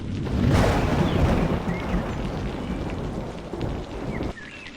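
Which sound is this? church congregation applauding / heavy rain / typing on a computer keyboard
heavy rain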